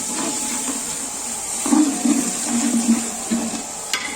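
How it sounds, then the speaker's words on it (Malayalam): Hot water is poured into a cooking spice mix while making a date pickle. A soft, steady hiss with gentle bubbling sizzle runs throughout at moderate loudness, with no talking. "നമുക്ക് ചെറിയ ചൂടുവെള്ളം കുറച്ച് ഒഴിച്ചു കൊടുക്കാം"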